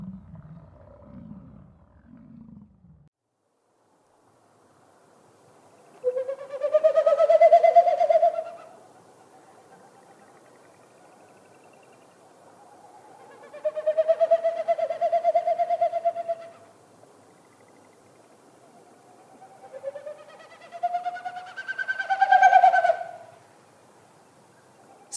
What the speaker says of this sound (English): What you heard is a Wilson snipe doing its territorial sound